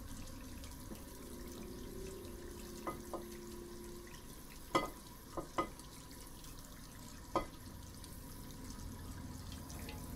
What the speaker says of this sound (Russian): Помою посуду.